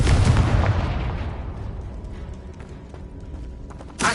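A Confringo blasting spell goes off in a Harry Potter video game, a loud booming blast that decays into a long rumbling tail, followed by a brief sharp burst near the end.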